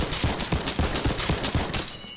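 Heavy assault rifle fire in Fortnite, a rapid run of about a dozen punchy shots in steady rhythm, loud and close, ending in a short tail.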